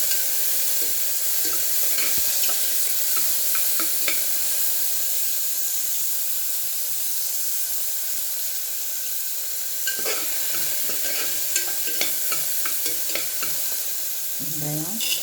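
Small onions frying in hot oil with mustard seeds and urad dal, a continuous hissing sizzle with scattered crackles and stirring scrapes, picking up toward the end.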